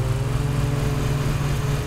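Steady droning engine of a lawn mower cutting grass in the Lawn Mowing Simulator video game, a constant loud buzzing hum with no variation and no talking.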